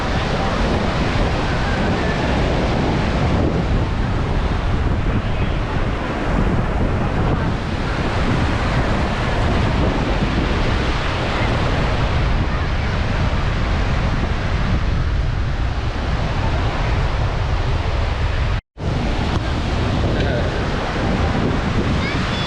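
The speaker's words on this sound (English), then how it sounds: "Amazing beach here, guys." Surf breaking on Playa Santa Maria beach in Cadiz, Spain, a steady broadband wash of waves mixed with heavy wind rumble on the microphone, continuous for the whole stretch apart from one brief dropout near the end.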